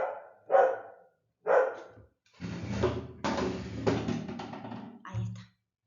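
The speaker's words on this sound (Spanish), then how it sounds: "Disculpen que mi perro está ladrando y ladra fuerte." A dog barks loudly, close by, two sharp single barks followed by a longer run of barking, mixed with a person talking over it.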